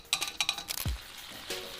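Melted Jolly Rancher candy boils in a pot as the sugar coating for tanghulu grapes, giving a brief, soft bubbling sizzle with a few light clinks.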